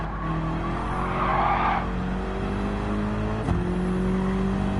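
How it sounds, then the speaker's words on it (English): A GT3 race car engine in Gran Turismo 7 drones and shifts down through gears, with a brief tire squeal and steady mechanical whine throughout. "You can hear the engine just downshift."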